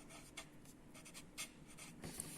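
A pen scratches across paper while notes are written on a wiring diagram, soft, close strokes in short irregular bursts against a faint background hiss.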